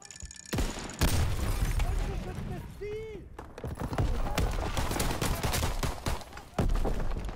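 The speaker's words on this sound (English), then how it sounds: "Headshot with the pistol" Pistol gunshots in a WWII first-person shooter game ring out amid dense battlefield noise, with sharp bangs near the start and again near the end, over a loud, busy mix of gunfire and background effects.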